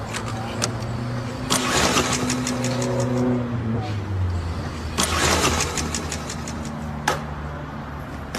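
Car engine cranking and starting in cold weather, with repeated whirring starter cranks that catch into a running idle and a brief rev, heard up close.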